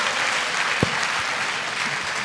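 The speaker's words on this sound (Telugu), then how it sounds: "చప్పట్లు." Audience applause at a public talk, a steady dense wash of clapping from a hall crowd filling the whole clip with no speech over it.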